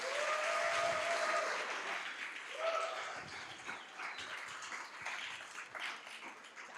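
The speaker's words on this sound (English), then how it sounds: "let's get a big round of applause for all of our finalists" Audience applause for entrepreneurship competition finalists at an anniversary celebration of sustainability and entrepreneurship, steady clapping that fades gradually, with a few brief tonal sounds early on.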